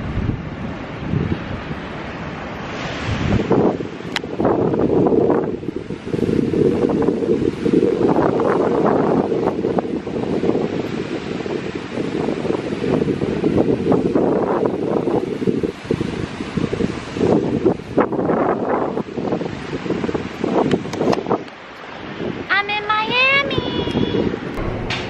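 Strong wind buffets a microphone at a seaside spot, a loud, constant low roar with gusts throughout, while a person talks underneath it.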